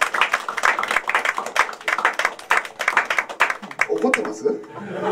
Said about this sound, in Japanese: 拍手を差し上げています